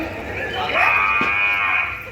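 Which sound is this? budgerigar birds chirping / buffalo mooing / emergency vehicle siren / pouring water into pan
buffalo mooing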